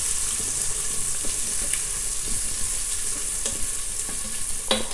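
Sliced onion and chopped garlic stir-fry in a pot, producing a dense, constant sizzle and hiss up close, with intermittent clinks and scrapes of a stirring utensil and no voices.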